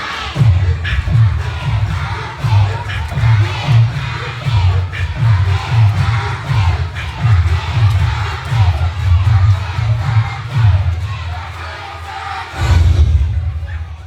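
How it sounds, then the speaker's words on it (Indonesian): Crowd at a Maulid Nabi celebration walking and clapping while shouting in unison, a loud repeating chant of many voices with deep rhythmic thumps, steady throughout and swelling again near the end. "Pakai tepuk tangan sambil bilang AE AE gitu ya"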